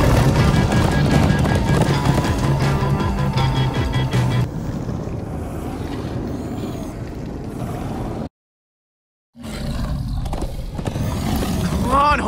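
Horses galloping in Minecraft Story Mode, a rapid clip-clop of hooves under wind and rushing noise with music and excited voices on top, cutting to brief silence before the ride resumes.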